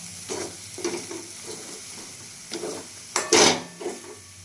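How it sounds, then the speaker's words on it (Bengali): Radhaballavi filling is mixed in a pan with a series of soft scraping strokes in an uneven rhythm, then a brief louder clatter of the spatula against the pan, close up with no voices. "দেখুন এরপর পুরটা আমি ভালো করে মিক্স করে দেবো।"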